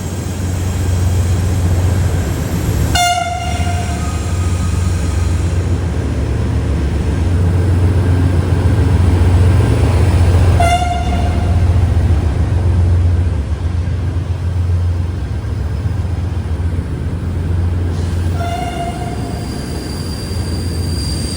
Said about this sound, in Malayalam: ഇതിലൂടെ ഒരു ഗുഡ്സ് ട്രെയിൻ വരുന്നത് കാണാം.